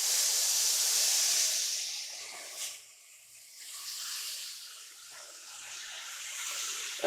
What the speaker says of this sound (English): So we have a skillet that's heated up over a medium-high heat. And to this, we're going to add in our ground beef.